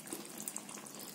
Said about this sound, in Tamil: இப்போ நம்ம கொஞ்சம் கரைச்சி வச்சிருக்க புளி கொஞ்சமா ஊத்து போறோம்.